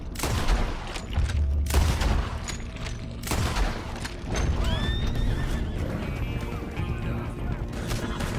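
Horses whinny in Red Dead Redemption 2 after a coach robbery, their neighs rising out of a busy game soundscape of hoofbeats and distant gunfire, with voices talking over the scene.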